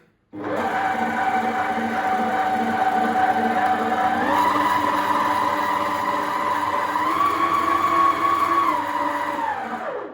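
A Suhini MK-8602 12-litre planetary mixer with eight speeds runs steadily with a loud, continuous motor whine, stepping up in pitch twice as the speed is raised before winding down at the end; no one speaks.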